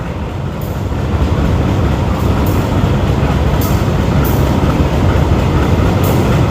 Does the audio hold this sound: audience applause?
no